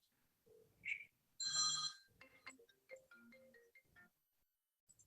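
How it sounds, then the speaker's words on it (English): A phone ringtone goes off during a village board meeting held over a video call, a short ringing burst of tones standing out amid faint background voices, followed by a few scattered beeps. "Tell Chris, pick up the phone, Chris."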